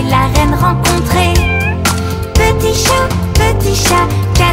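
A cartoon cat meows repeatedly in a French children's counting song, with the meows set against steady music and sung melody throughout.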